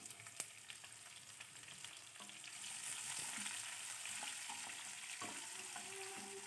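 Chopped onions frying in oil with cumin seeds and chana dal for hotel-style poori curry, a steady close sizzle that swells midway with occasional stirring scrapes.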